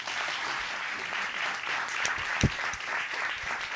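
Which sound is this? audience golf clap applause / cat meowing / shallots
audience golf clap applause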